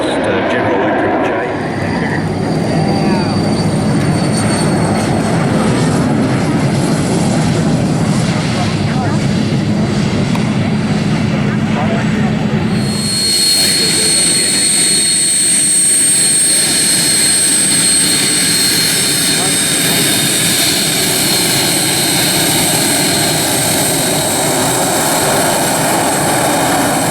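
A jet aircraft powered by two General Electric J engines flies past at an air show, a loud, continuous roar that changes character about halfway through.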